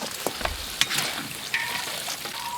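Chicken frying in hot oil for spicy chili chicken, a soft bubbling sizzle with scattered sharp pops and crackles, nearby and moderate in level.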